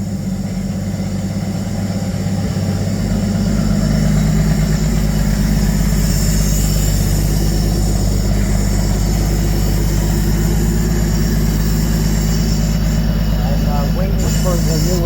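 Bombardier engine idling steadily with a low, continuous rumble throughout, a faint whine near the end, and people talking over it.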